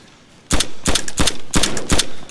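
Loud bursts of video-game gunfire in DayZ, aimed at a gas pump: several sharp, close shots in quick uneven clusters after a short near-silent moment, with no talking.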